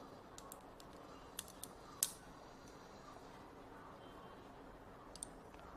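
Hairdressing scissors trimming hair for a collarbone-length haircut, a few faint, crisp snips at uneven intervals against a quiet room hiss.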